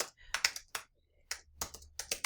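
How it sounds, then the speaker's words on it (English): Fingers type on a computer keyboard in quick, uneven bursts of crisp clicking keystrokes with short pauses between them, close and clear with no talking. "I need to resume typing"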